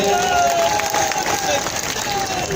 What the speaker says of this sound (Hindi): जरा ताली बजा दो उनके लिए